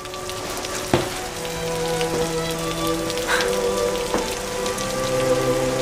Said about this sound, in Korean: 오늘 이렇게 비가 오는데